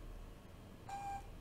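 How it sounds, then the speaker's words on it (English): A phone gives a short electronic beep for an incoming text message, one brief tone near the end over a quiet room hum. "Ignore my phone beeping, it's somebody trying to text me"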